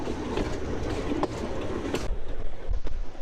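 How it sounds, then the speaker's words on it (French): Diesel-hauled tourist train of the Baie de Somme running between Saint-Valery and Cayeux-sur-Mer, a steady close rumble of rolling carriages with rhythmic wheel clicks and a few sharp metallic knocks over the rails. "Embarquons dans le train à traction diesel qui relie Saint-Valery à la station balnéaire de Cayeux-sur-Mer"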